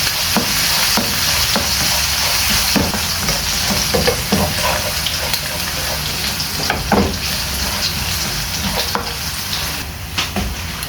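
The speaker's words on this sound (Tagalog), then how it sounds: "Lagay ko na yung bawang na marami. Pag-golden brownin lang natin to para mabango." Plenty of chopped garlic sizzles steadily in hot oil for chicken feet adobo, with scattered sharp scraping and stirring knocks from a utensil against the pan throughout, close and fairly loud, no talking.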